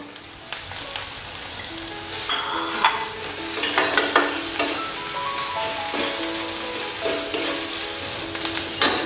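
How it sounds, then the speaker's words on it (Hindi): Steady sizzling of onions frying in a pan, with occasional stirring scrapes and clinks, close and moderately loud, no talking. "लेकिन अच्छा ट्रांसलूसेंट होने तक इसे हमें फ्राई करना है।"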